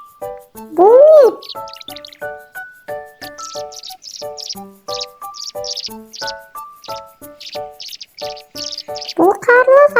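A swallow twitters in a rapid, close series of short, bright chirps and trills, with a couple of louder rising warbles at the start and end.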